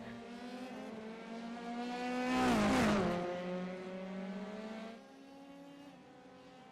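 Formula 3 race car in a racing game braking into a hairpin then accelerating away, its high engine note rising and dipping through gearshifts, loud and continuous with a tire-squeal flare midway.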